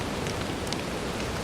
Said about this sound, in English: shared with no one but the sound of the rain